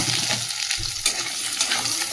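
Potatoes fry in hot oil tempered with cumin and bay leaf, giving a close, loud, continuous sizzle with a brief stir partway through.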